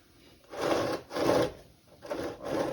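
Scraping and grinding of a screwdriver working a stuck oil filter off a 1992 Jeep Cherokee XJ, three long rasping strokes with short pauses between them, close and moderately loud.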